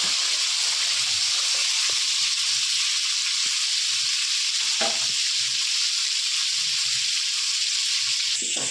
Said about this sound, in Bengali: এবার বাদ বাকি মাছগুলো আমি ভেজে নেবো